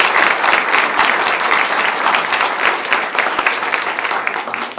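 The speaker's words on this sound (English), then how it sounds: "Give her a big round of applause." Audience applause fills a board meeting room, dense and steady clapping from many hands, loud and close, sustained throughout without a break and with no talking over it.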